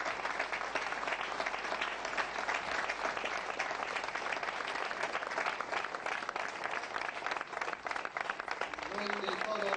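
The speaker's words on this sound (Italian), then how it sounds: "Applaudiamo questi professionisti." Audience applause for performers at a Ciociaria regional showcase, a dense, steady wash of clapping that holds at full strength for the whole stretch, with a few faint voices mixed in near the end.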